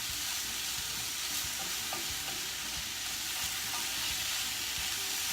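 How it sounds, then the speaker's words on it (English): Vegetables saute in a hot pan for a kale salmon salad, making a steady, dense hiss of frying, close and continuous, with faint stirring and no talk. "just saute them till the vegetables get kind of tender"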